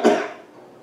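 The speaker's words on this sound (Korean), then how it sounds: "그래서 이제 기침을 자꾸 하는데" A single sharp cough from someone suffering a pollen allergy, loud at the start and quickly fading into a soft tail, with no talking around it.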